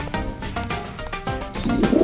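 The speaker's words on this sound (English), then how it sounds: "The birds aren't even afraid of me." Pigeons cooing in the Deus Ex video game, a few soft repeated coos close by with a rising warble near the end, over quiet game ambience.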